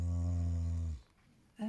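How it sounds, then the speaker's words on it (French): A donkey snoring up close: a long, loud, harmonic rasping inhale runs for about a second, then a brief quiet gap before the next snore begins. "tu ronfles? Ah bah dis donc"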